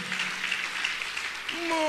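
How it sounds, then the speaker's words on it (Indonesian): Congregation applauding during a church service, a soft, distant patter of clapping that continues steadily before a voice begins speaking at the end. "Mari berikan tepuk tanganmu."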